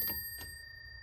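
The bell of a 1950 Everest Model 90 typewriter rings faintly twice in quick succession, each a brief thin metallic ding with a lingering high tone, set against quiet room hum.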